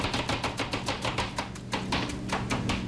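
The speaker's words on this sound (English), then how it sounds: "Now start chopping." A knife chops lettuce on a cutting board in a Mexican cantina kitchen, with rapid, evenly spaced crisp strikes that continue steadily and sound close.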